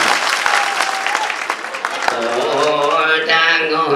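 An audience claps loudly and steadily for a song, the close applause running throughout while voices rise over it in the second half.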